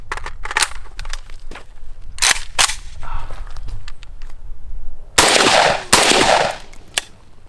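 A PSA AK-103 rifle fed from a Bulgarian polymer waffle-style magazine fires two loud close shots, each a sharp blast with a ringing tail, amid clicks and handling clatter of the action.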